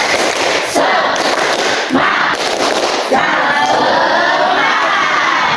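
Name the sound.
children doing the tepuk semangat clapping chant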